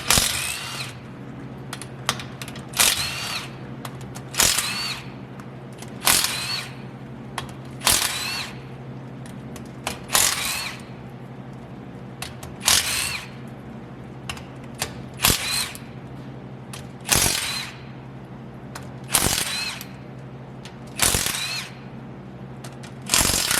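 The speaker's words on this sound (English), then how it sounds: "So all these bolts around the rear end cover is a 13mm socket." Ratchet wrench with a 13mm socket working the bolts on the rear axle cover of a RAM 1500 with a 9.25 ZF axle, giving repeated sharp clicking bursts at a steady pace, close and clear over a low hum.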